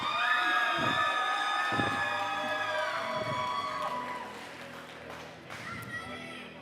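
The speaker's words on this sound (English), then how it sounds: "Let's hear you guys cheer for the Red Alliance" Crowd at a robotics conference championship cheering and whooping for the Red Alliance, loud and sustained with shouts and excited voices, fading slightly toward the end.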